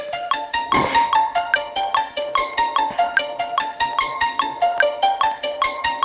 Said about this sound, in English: We just started off with a simple pluck